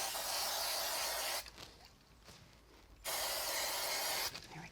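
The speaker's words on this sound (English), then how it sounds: "give it a nice spray" Two long hissing bursts from an aerosol spray can coating a card frame before glitter goes on, loud and close with a short pause between them.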